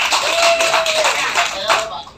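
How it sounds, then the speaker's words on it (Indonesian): A crowd at a public gathering applauds in a dense, continuous wash of clapping that tapers off near the end. "Tepuk tangan untuk Purba."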